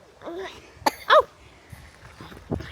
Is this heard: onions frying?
no